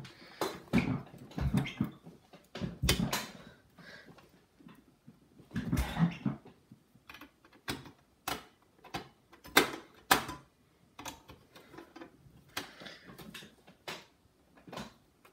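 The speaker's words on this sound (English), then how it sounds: "It's unscrewing, but just not very well." A stuck screw being worked out of a computer power supply: irregular scraping, creaking and clicking bursts with pauses between, close and fairly faint, no speech.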